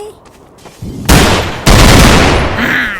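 Video game gunfire cracks out in loud, dense bursts, with a rapid volley followed by a sustained second barrage close up and a brief quieter lull before it.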